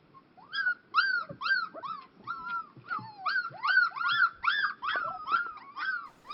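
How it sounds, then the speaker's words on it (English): Young puppies give repeated high whimpers and wavering little howls, overlapping one another in a steady run of yelps, close and fairly loud. "They experiment with their vocalization, so their first attempts at barking and growling at each other."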